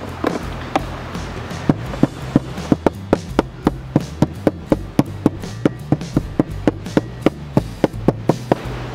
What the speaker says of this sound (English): then you take your chocker hammer